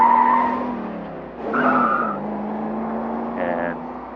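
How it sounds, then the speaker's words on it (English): Car tire squeals used as a film sound effect for a villain's 1968 Chevy Impala, a loud engine roar with shrill screeching skids rising and falling over several seconds. "those tire squeals were ridiculous"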